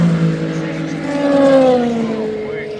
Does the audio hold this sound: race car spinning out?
yes